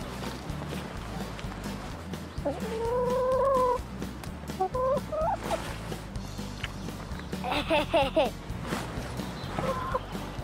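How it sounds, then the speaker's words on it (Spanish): Chickens cluck along a wet country path in the rain, giving scattered short calls at moderate distance while voices talk nearby and steady rain and footsteps continue. "¡Mira, gallina!"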